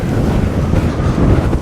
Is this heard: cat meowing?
no